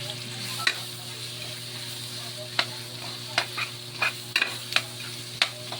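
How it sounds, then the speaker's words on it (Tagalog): Food sautéing in a pan, a moderate steady sizzle punctuated by roughly ten sharp spatula scrapes and taps at irregular intervals, close by, over a faint background hum, no voices. "magigisa na tayo"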